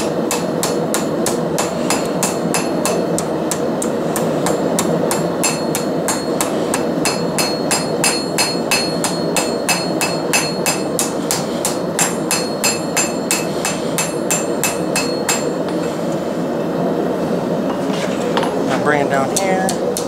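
A cross peen hammer forges a steel pan with rapid, evenly spaced ringing metallic blows that stay loud and close, continuing almost without pause before tapering near the end.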